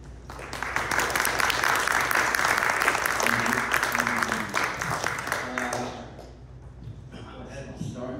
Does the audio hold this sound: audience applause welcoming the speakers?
yes